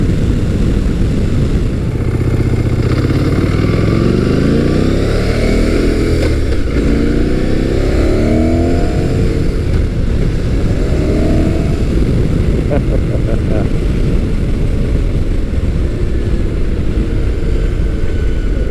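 A Motus MSTR motorcycle with a 1650cc V-4 engine accelerates hard from about 3,000 RPM, its loud engine note rising through the revs with heavy wind rush, close and sustained throughout.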